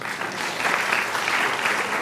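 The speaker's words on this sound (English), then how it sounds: "I think that also needs an applause." Steady audience applause at a law summit on women and the Constitution, a dense, even wash of many hands clapping, moderately loud and sustained throughout with no voices over it.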